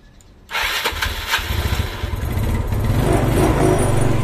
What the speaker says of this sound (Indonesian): Akhirnya motor itu nyala dan tinggal setting karbu